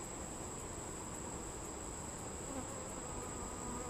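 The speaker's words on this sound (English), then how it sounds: "Some bees talking and feeding each other." Honeybees buzz steadily in an open hive during a summer inspection, a dense continuous hum close by with no one talking.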